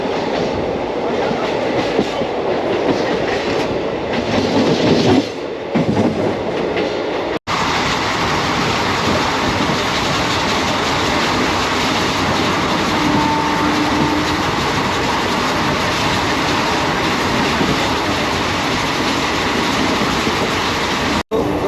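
Uttranchal Sampark Kranti Express on the Delhi to Kathgodam line, running non-stop through Hapur: a loud, steady rolling rumble with rail clatter that continues throughout, broken only by a momentary dropout partway through, with no voices.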